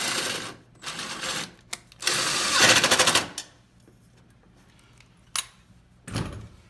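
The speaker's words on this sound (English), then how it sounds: "Next, we're just going to go through and tighten each of these bolts." Metal bolts being tightened on a fly-fishing boat rod holder, with bursts of rapid clicking, ratcheting and clattering, close by, broken by short pauses and a few sharp knocks.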